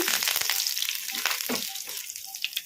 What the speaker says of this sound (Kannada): ಈಗ ಇದಕ್ಕೆ ಒಂದು ಸ್ವಲ್ಪ ಕರಿಬೇವು ಹಾಕೋಣ ಕಲಿಸ್ಕೊಂಬಿಡೋಣ